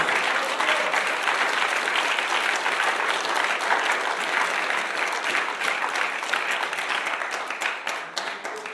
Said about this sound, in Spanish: denle un aplauso fuerte a su presencia